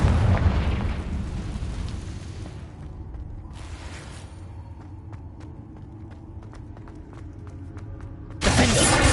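Confringo blasting spell explosions in Hogwarts Legacy: a heavy rumbling blast that slowly decays, followed by scattered small crackles and ticks, then a second sudden loud burst near the end.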